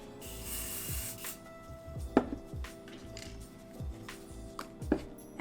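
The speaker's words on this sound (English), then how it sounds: "It's just hairspray." Hairspray hisses from a can onto hair in a short burst at the start, then softer rubbing and ticking sounds follow.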